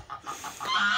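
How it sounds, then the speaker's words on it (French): Geese honk in a home vegetable garden where hens are also kept, a few close, fairly soft calls in quick succession that rise into a louder honk at the end. "les oies vont super bien."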